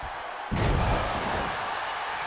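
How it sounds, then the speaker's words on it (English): A dragon suplex in WWE 2K22: a single heavy slam lands abruptly, then a broad rumbling roar from the arena crowd carries on steadily afterward. "There's the dragon suplex"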